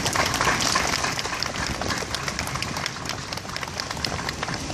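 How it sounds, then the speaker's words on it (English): An audience at a September 11 remembrance ceremony applauds police officers, producing dense, sustained clapping that stays steady and fairly loud before easing slightly. "Let's give them a round of applause, please."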